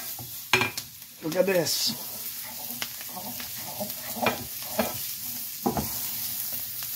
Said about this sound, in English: This is quick saute.